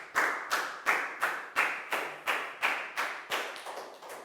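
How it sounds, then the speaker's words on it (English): Classroom of Year 4 pupils clapping for a classmate, about a dozen evenly spaced sharp claps in a steady rhythm, close and moderately loud, with no talking. "a big round of applause for Pak Bung"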